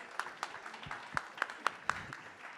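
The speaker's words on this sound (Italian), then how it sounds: "Facciamo un applauso a Veronica" A small audience at the opening of Casasanremo 2024 applauds for Veronica: a few scattered, faint handclaps with distinct separate claps standing out, thin and brief rather than a full ovation.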